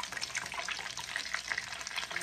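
Eggplant slices frying in hot oil, a steady dense crackle and hiss with scattered sharp pops, close and continuous throughout, no voices.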